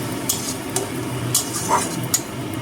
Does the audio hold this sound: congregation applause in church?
no